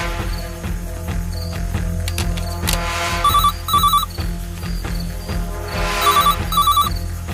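A telephone rings repeatedly in short trilling bursts over a busy background of music and clatter.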